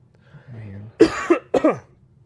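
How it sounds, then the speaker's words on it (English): A faint murmur followed by two harsh, close coughs in quick succession, then quiet. "Sorry for coughing into the microphone."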